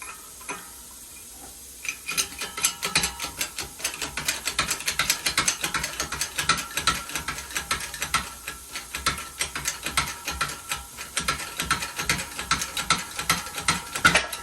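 Press pushing the collar out of a Yugo/Fiat wheel hub, a steady run of rapid ratcheting clicks from the press handle, close and even, with no voices.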